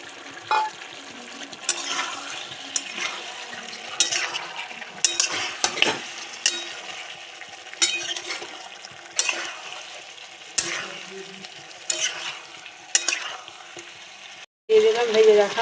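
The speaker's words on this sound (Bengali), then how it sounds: "লবণ দিয়ে 1 মিনিট নাড়াচাড়া করে নিলাম" Spices and salt stirred and fried in a pan, a steady sizzle under repeated scraping strokes of a spoon against the pan, close and continuous.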